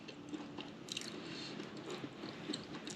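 Someone chews a close-up bite of fried coconut cream pie with a flaky crust, cream center and glaze, giving soft crunching and moist squishing bites in a steady rhythm, with no talking.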